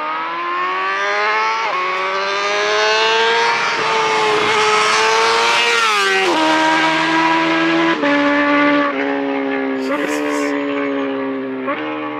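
A high-revving 2020 Honda Fireblade SP or Aprilia RSV4 1100 superbike roars past close by, its engine pitch climbing then dropping through gear changes as it screams away, loud and continuous.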